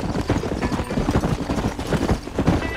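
Horse hooves clip-clopping steadily in the Red Dead Redemption video game, a dense, continuous patter of hoofbeats up close with game ambience behind.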